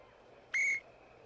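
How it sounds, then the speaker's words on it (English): One short, bright referee whistle blast from the Action PC Basketball video game, a clean sustained tweet of about a quarter second over a quiet background. "The play has been whistled dead."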